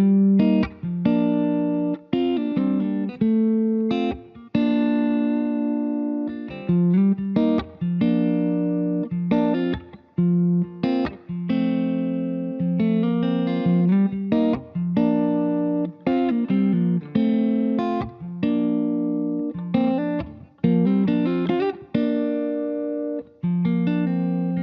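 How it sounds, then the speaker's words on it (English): A guitar plays a melodic line of plucked notes and chords, drenched in reverb with pre-delay so the reflections sound farther away than the close, clear instrument, continuous with brief gaps between phrases. "when you're adding pre-delay, you're making the reverb sound farther away, not the source"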